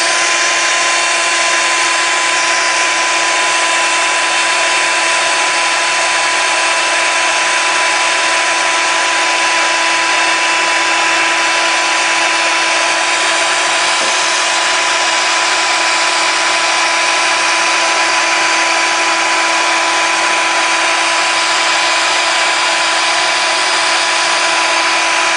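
A heat gun blows steadily to melt embossing powder in a papercraft project, a constant high whooshing hiss with a faint tonal whine, close and unbroken for the whole stretch with no talking.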